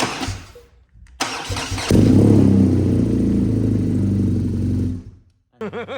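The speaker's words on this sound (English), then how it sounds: "we're just going to fire it up" A BMW R NineT Racer motorcycle engine cranks with a brief stutter, fires up and settles into a loud, close, throbbing idle for a few seconds before it shuts off, with a short voice right after.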